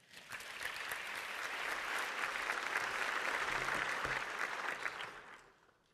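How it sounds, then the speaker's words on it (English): An audience gives a round of applause for co-producer Ron Dyens at an award event, the clapping swelling in, holding steady and dense, then tapering away near the end. "Please maybe have a big round of applause, everyone, for co-producer Ron Dyens."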